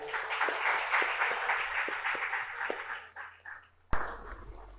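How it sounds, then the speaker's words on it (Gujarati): An audience at a Gujarati women's poetry event applauds warmly, with dense clapping that swells and then fades over about four seconds. A sudden loud burst of noise follows at the end. "જોરદાર તાળીઓ"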